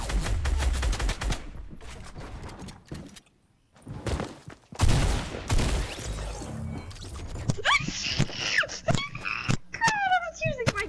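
Bursts of gunfire ring out in the video game Fortnite, with sharp rapid shots and sputtering volleys mixed with frantic, whining voices, the shooting growing denser toward the end.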